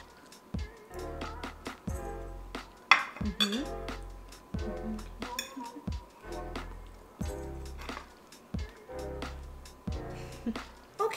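Dishes and cutlery clink and scrape repeatedly as stir fry with vegetables and rice from a rice cooker is served onto a plate, with steady rhythmic scoops and clatters close by, mostly alone with faint speech.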